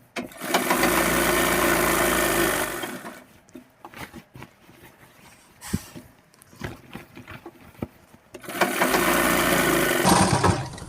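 Electric sewing machine runs in two long continuous bursts stitching seams on a half-elastic pant after overlocking, a steady motor whir at the start and end with quieter handling and fabric rustle between.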